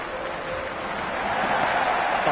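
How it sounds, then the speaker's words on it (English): Raucous cricket crowd at an IPL match between Mumbai Indians and Kolkata Knight Riders, a dense, steady roar of many voices that swells slightly, with no clear speech over it. "The crowd are really getting quite raucous"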